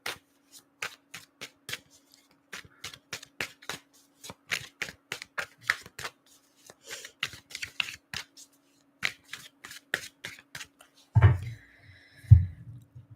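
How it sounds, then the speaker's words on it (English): Decks of cards are shuffled over and over, crisp riffling bursts in a quick rhythm, ending with a couple of heavier thumps. "I'm just shuffling a couple of these decks."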